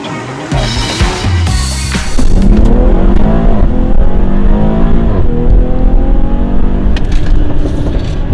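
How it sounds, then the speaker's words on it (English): A BMW X3 M40i SUV revs loudly and close by, its engine rising in pitch over several seconds. The exhaust note is sustained and dense rather than marked by distinct pops. "Listen to the popping."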